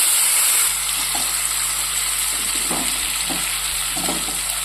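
Marinated taro stolons hitting hot oil tempered with whole cumin seeds, giving a steady close sizzle with occasional stirring scrapes and pops, no voices.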